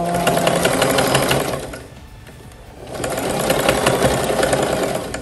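A basic home sewing machine stitches a towel robe, its motor whirring with a rapid mechanical chatter, stopping for about a second before running again at steady speed, close and alone.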